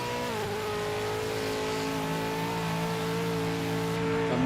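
Ford Falcon V8 Supercar racing in a video game, its engine note loud and close throughout with a steady high rev that climbs briefly near the end.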